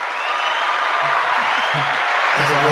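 Applause welcoming a guest onto a talk show, steady crowd clapping filling the whole clip with a few voices and whoops rising near the end.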